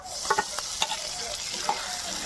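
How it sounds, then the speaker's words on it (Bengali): A spice paste of ginger-garlic paste, cumin, black pepper and dried red chilli paste fries in a pan with a continuous sizzle, broken by a few quick scraping stirs close by. "মশলাটা আবার একটু ভালো করে কষিয়ে নেব"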